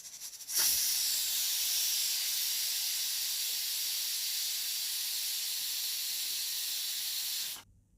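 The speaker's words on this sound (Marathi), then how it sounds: "कुकरच्या चार शिट्ट्या झाल्यानंतर आपण गॅस बंद करूयात" A loud, steady hiss of escaping steam runs for several seconds without a break, then stops sharply, like a pressure cooker releasing its whistle.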